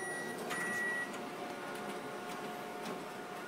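A booklet printer processing a collated job hums with a steady mechanical whir and faint rapid ticking, continuous and moderately quiet throughout.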